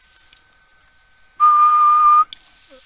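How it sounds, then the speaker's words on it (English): A steady whistled tone sounds into a Barrett 4050 HF radio's standard microphone, a single held note lasting under a second after near silence, with faint clicks before and after. "I'm just going to whistle into the microphone."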